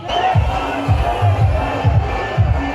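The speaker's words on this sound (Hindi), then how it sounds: "ये लोगों की भारी भीड़ यहाँ पर नाचते हुए मजे लेते हुए।" A large festival crowd at the Shimla Summer Festival, with steady crowd noise and repeated low rhythmic thumps from music for dancing filling the space throughout.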